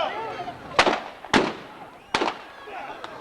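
Gunshots in a staged Western-style shootout: three sharp, loud cracks at irregular spacing, each with a short echo tail, plus a fainter pop near the end, with a voice calling out between them.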